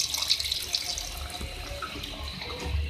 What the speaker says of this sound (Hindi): ये 2 कप मैंने इसमें पानी ऐड किया